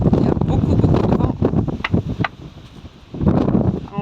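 Strong wind gusts roughly across an open roadside, roaring in low, uneven surges with a quieter lull before picking up again, close to the microphone.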